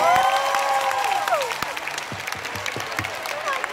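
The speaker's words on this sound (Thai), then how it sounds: "ปรบมือให้เช็คหน่อยครับ" An audience claps at a market fan event, a short burst of applause fading to scattered claps, with voices and a brief rising tone in the first second.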